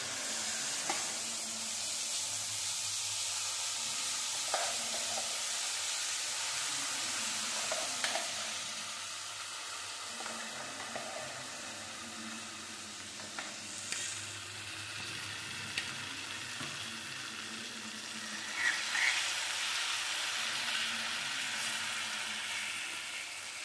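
Ground curry leaf chutney hits a hot pan tempered with asafoetida and sizzles steadily, a continuous close hiss broken by occasional scraping stirs and brief louder spurts.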